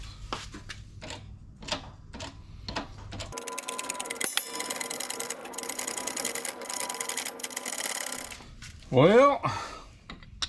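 Ratchet of a socket wrench cranking down on a stuck bolt during a repair, a dense run of rapid metallic clicking lasting several seconds, set between scattered knocks and taps, close and fairly loud, with a short spoken word at the start.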